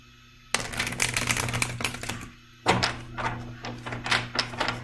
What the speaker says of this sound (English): I'm going to give it just one extra shuffle.